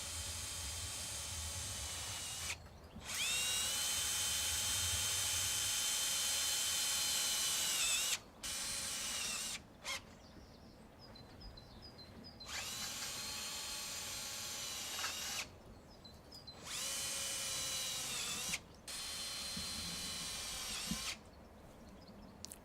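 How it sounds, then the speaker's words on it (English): A power drill drives self-drilling screws through the metal hoops and joints of a small greenhouse frame, whirring in several long bursts separated by short pauses, steady and fairly loud. "Secure all joints and P-clips using self-drill screws, making sure that no screw protrudes past the hoop."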